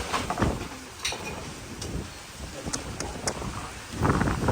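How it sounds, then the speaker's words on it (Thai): Strong gusty wind roars and buffets the microphone continuously, with rustling and flapping noises mixed in, loud and close throughout. "ลมพายุมาวันนี้"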